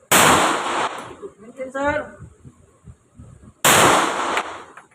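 Two sharp, loud firearm shots ring out at a shooting range, a few seconds apart, each with a ringing tail, while someone speaks briefly between them.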